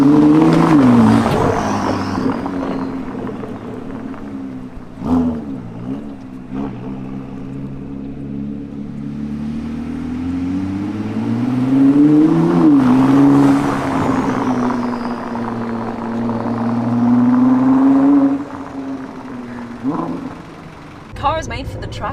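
Ford GT sports car pulling away from a standstill in first gear: a loud engine drone rises and falls through revs, with a swelling acceleration near the middle, and excited talk inside the cabin over it.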